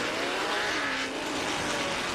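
Race cars roar steadily through a figure-8 race at Irwindale Speedway, a dense continuous engine din with a rising tone as one car loses control.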